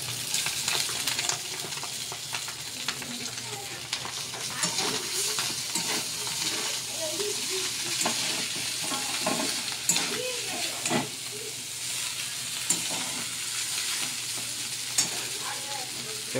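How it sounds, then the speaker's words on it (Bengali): Chowmein noodles tossed in a hot pan with fried egg give a steady, close sizzle with repeated scraping and stirring strokes throughout, a faint voice briefly audible in the background. "ডিমটা ভাজা গেছে, এবার চাউমিনটা দিয়ে দেওয়া হবে"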